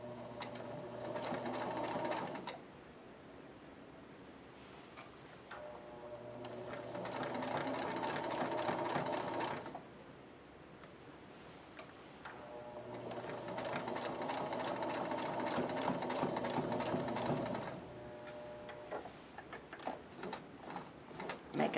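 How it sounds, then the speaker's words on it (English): A sewing machine runs in several bursts of steady rapid stitching, backstitching and then sewing forward along the edge of a fabric leg for a school frog or monkey project, with short pauses between runs and no talking. "Sew in reverse, and then begin sewing."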